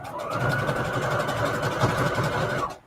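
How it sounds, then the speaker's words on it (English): A sewing machine runs continuously at a steady speed, its dense mechanical whirr and fast stitching pulse holding evenly for nearly three seconds before stopping abruptly. "Sometimes these sewing machines, they make some weird sounds and it scares me."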